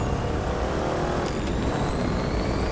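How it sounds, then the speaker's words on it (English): Corvette race car with side exit exhaust in a racing video game, a steady loud engine drone with whine throughout, no pauses. "Oh, I love the side exit exhaust."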